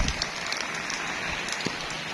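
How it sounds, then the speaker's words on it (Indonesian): Light drizzling rain patters steadily on a surface, a continuous soft hiss with scattered faint drop ticks and no voices. "Itu hujannya."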